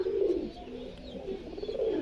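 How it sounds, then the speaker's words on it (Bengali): Punjabi Malbai high-flying pigeons give soft, continuous low coos, close and moderately loud, with no voices. "মালবাই পায়রা, পাঞ্জাবি মালবাই, দাদা পাঞ্জাব থেকে গিয়ে নিয়ে এসছে"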